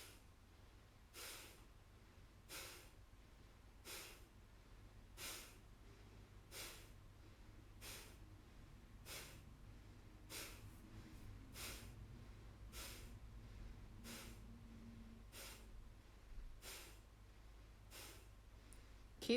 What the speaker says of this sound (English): Keep breathing, keep pumping.